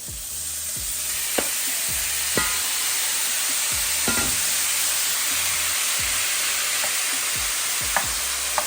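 Steak hitting a hot pan fills the air with a loud, dense, continuous sizzle, and a handful of sharp taps and clicks punctuate the hiss, close and with no voices.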